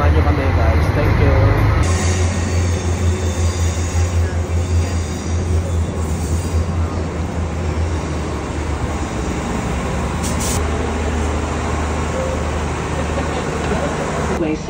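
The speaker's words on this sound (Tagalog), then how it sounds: "andyan na po ang train namin papuntang Carrickfergus Castle" A train bound for Carrickfergus in Northern Ireland rumbles steadily nearby with a loud, continuous low roar and clatter, while people talk over it.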